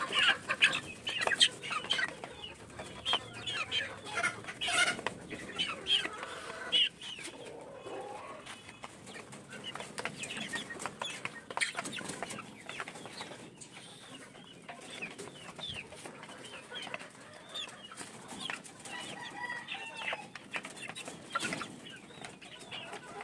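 Free-range chickens cluck and coo continuously at close range while pecking at moths fallen on the ground, with scattered rustling and overlapping calls from several birds and no talking.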